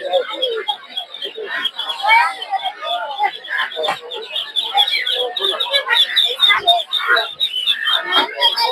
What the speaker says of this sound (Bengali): এগুলো সব হচ্ছে বেলজিয়াম হাঁসের বাচ্চা।